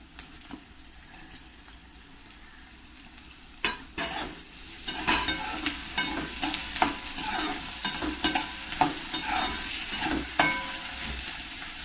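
Tomatoes tipped into a pan of frying okra sizzle loudly as a spoon stirs them, with repeated scraping strokes and crackling bursts that grow busier halfway through. No one speaks.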